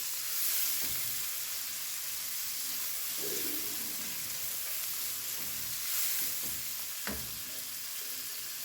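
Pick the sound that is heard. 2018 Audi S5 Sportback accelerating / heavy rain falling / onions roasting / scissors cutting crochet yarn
onions roasting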